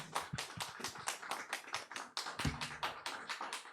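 Hands clap in a brisk, steady rhythm at a church service welcoming a pastor, several claps per second, close and clear, continuing without a break.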